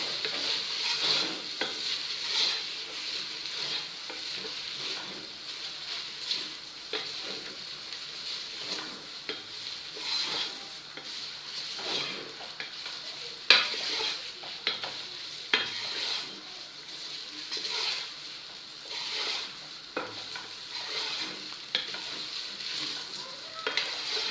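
Drained spaghetti stirred with olive oil in a cooking pot, giving a steady soft sizzle with light scraping and stirring noises throughout, fairly quiet and with no one speaking.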